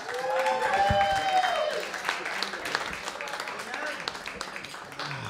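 An audience applauds and cheers a stand-up comedian being introduced at a comedy club in New York, the clapping loud and sustained at first and then tapering off while a voice talks over it.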